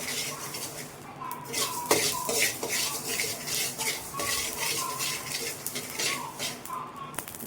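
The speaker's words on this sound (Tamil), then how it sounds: "இந்த மாதிரி வறுத்துட்டே இருக்கும்போது அது வெடிக்கிற சவுண்ட் வரும்." Mustard seeds pop and crackle while being dry roasted in a pan for mango pickle, a busy scatter of small sharp pops mixed with scraping and stirring against the metal, a voice talking faintly underneath.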